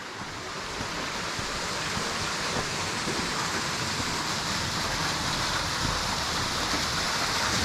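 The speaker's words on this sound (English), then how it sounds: "we've got pretty good flow of water coming in today" A stream in strong flow at Turkey Run rushes and churns in a dense, continuous roar, steady and loud from start to finish with no voices.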